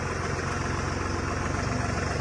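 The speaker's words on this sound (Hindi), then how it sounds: "बुलडोजर को लेके रोड रोलर के साथ टोचन करने के लिए" A tractor's engine idles steadily while it is hitched to tow a bulldozer and a road roller, giving a continuous low rumble with fast, even pulsing, close and unbroken, with no voices.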